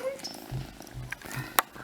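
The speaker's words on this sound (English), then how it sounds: "Listen to that purring." Kitten purring close and soft in a steady low rumble, with a voice speaking gently over it.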